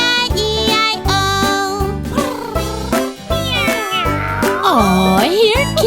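Meows sung by a voice imitating a cat in a children's farm-animal nursery rhyme, repeated several times over bright, steady backing music.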